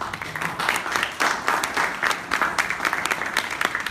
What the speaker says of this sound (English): Give guys a hand of applause for these guys.